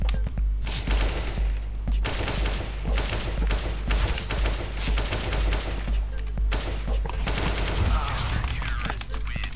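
CS:GO gunfire in rapid bursts of loud, close shots, near-continuous automatic fire with brief pauses between volleys, players talking under it.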